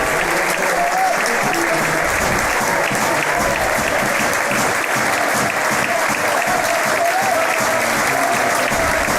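A football crowd applauds steadily at a Barnet vs Aldershot Town match, with dense sustained clapping that fills the stadium from start to finish and no break in the sound.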